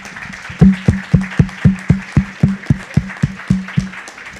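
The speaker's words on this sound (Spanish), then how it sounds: "un aplauso para él" An audience at a talk in Mexico claps in unison, about sixteen sharp, evenly spaced claps in a steady rhythm, close and clear against a quiet background.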